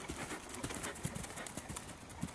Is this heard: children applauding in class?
no